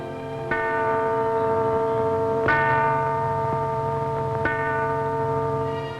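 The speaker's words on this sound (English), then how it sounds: "At the end of many Radio Free Europe programs, 4 notes of the bell are heard" The Radio Free Europe Freedom Bell, recorded in 1955, rings slow, evenly spaced strikes, each a deep resonant clang whose rich ringing overtones hang on and overlap the next stroke.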